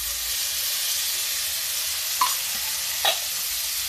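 Ghee goes into a pan of corn and soaked sago, giving a steady soft sizzle and hiss with a couple of brief stirring scrapes, close and moderately loud.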